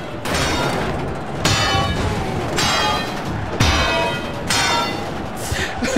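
A ring bell clanging again and again in the Wrestling Empire video game, five loud metallic strikes spaced about a second apart, each ringing out briefly before the next hit.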